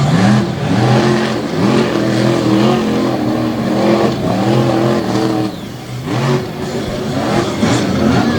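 A race car engine at Lake Erie Speedway, likely a monster truck at a three-wide event, roars loud and close, revving and shifting pitch repeatedly with a brief dip near the end.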